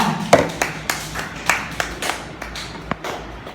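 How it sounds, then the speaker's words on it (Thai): Children in a classroom clap for classmates, a loose run of separate handclaps at an uneven, casual pace, close and moderately loud. "ปรบมือให้เพื่อนทั้งสองคนด้วยค่ะ"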